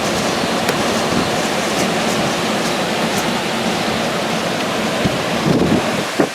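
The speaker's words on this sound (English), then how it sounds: "Never seen waves this big here." Strong wind buffets the microphone while big waves surge and crash on the shore of Cumberland Bay on Lake Champlain, making a loud, continuous roar of wind and surf with no speech.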